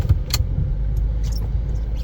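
A vintage Toyota Land Cruiser FJ62 creeps slowly into a shop, its engine giving a low, steady rumble close by, with a couple of brief metallic clinks near the start and no talking.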